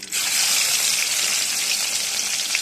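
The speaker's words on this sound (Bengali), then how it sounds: "মাছটা এখন তুলে নিচ্ছি এখন দিয়ে দেবো ওই তেলে" Pieces of pangas fish dropped into hot oil, a loud, steady hiss of frying that starts abruptly and holds on close up without talk.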